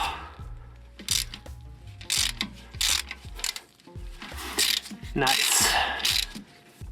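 Ratchet wrench clicking in quick bursts while loosening an oil drain plug on an Iveco 4x4 overlander truck, close and fairly loud with metallic clanks between strokes and a brief spoken word.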